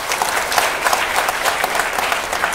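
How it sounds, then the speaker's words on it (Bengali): An audience at a prize-giving ceremony for the Notun Kuri talent competition breaks into loud, dense applause, a sustained burst of many hands clapping close by. "তাদের জন্য একটা হাততালি।"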